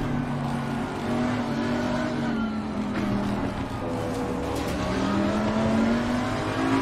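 A Lamborghini race car engine in Assetto Corsa Competizione drones steadily at high revs through the whole stretch, with smooth pitch shifts as it holds speed on track.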